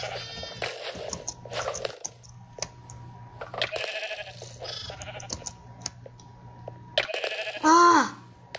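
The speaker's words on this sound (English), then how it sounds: "Let me get this one sheep here." A single Minecraft sheep bleats loudly near the end, following a stretch of clicking and soft game sounds while a player talks at intervals.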